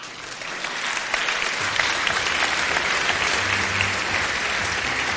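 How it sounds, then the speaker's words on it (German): An audience at a university science event at TU Berlin applauds, dense steady clapping that builds and holds throughout, with faint voices beneath. "Einen kräftigen Applaus"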